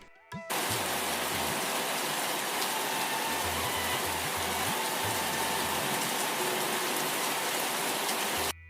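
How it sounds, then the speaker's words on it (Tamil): Rain falling after a long dry spell in a village story, a steady, even hiss of drops that starts abruptly, runs unbroken, and cuts off at the end, with faint low thuds beneath. "ஒரு வழியா 2 மாதம் கழிச்சு மழை பெய்தது."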